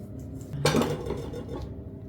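A knife cuts through a block of homemade puff pastry taken from the freezer, giving one sharp, close, crunchy cut with a brief scrape and clink against the board, followed by quiet.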